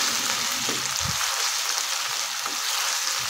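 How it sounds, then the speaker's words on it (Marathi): Spice paste sautéing in a pan over a low flame, a steady, even hiss of frying with a few soft stirring knocks, close and uninterrupted. "आता हे आपण कमी गॅसवरती थोडंसं परतून घ्यायचं आहे"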